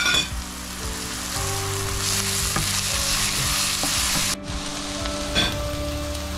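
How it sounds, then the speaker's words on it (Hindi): Crushed red chilli, turmeric and dried coriander for fish karahi fry and sizzle loudly in a pan, a steady hiss under repeated stirring scrapes, with a sudden dip partway through. "ये सारे मसाले हम इसे मिक्स कर देंगे।"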